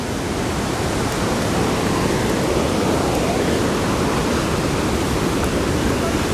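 Salto del Puma waterfall in heavy flow, rushing water as a loud, steady, broadband roar that fills the whole moment without pause.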